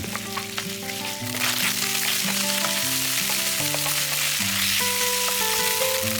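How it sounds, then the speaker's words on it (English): Steady oily sizzling of firm tofu stir-frying in sesame oil in a pan runs throughout, loud and close, with music playing over it and no voices. "add firm tofu, breaking it up with a spatula, and stir-fry until browned"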